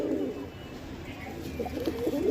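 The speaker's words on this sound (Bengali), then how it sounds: "এটা ফিমেল পায়রা, তো এটা সেল পারপাস।" Female Nazra Kaldum pigeon cooing, soft repeated coos close by over a noisy background, with a person talking in the clip.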